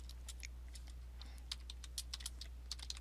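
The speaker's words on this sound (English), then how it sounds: "So I'm going to type in mine." Light typing on a computer keyboard, a quick irregular patter of soft clicks close to the microphone over a low steady hum, with no talking.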